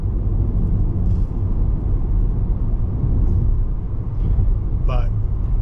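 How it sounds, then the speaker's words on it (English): Inside a moving 2023 Kia Rio S sedan with skinny tires, a constant loud low roar of road and wind noise fills the cabin, with a brief faint voice-like sound near the end. "we got wind noise, we have tire noise"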